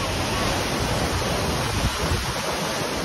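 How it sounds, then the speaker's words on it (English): Whatchachan waterfall in Doi Inthanon National Park, Thailand, roaring as a dense, steady wash of crashing water with wind buffeting the microphone, loud and unbroken. "This is the waterfall."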